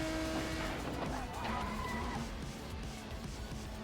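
Formula E electric race car in a racing video game at Silverstone, giving a steady whine with a rising tonal sweep mid-clip over broad road and tire noise, no voices.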